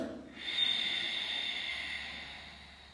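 A single long, deep breath during a static full-body yoga posture, heard as a soft airy hiss that swells early and fades slowly, close and alone.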